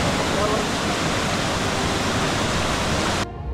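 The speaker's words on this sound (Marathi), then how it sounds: "तो पाठीमागे जो धबधबा आहे तो नेकलेसच्या आकाराचा आहे" The Necklace Waterfall at Bhandardara roars in full monsoon flow, a loud, close, unbroken rush of falling water that cuts off abruptly at the end.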